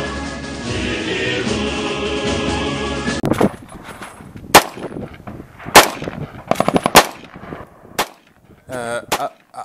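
After a stretch of background music, sharp gunshots from an AR-15 X-Star UXP-556 rifle with a very short barrel crack out in single shots and quick bursts, loud and close, with brief pauses between them.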